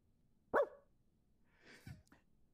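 A dog lets out one short, fairly faint bark, followed by soft breathy noises in an otherwise quiet room.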